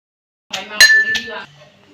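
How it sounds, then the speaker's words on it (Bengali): Chopped onions and dried fish are pounded into a mash for a mustard-greens bharta. It comes through as a short cluster of bright metallic clinks and knocks, close and crisp, lasting about a second before trailing off. "এগুলো ভালো করে ছেঁচে নিতে হবে।"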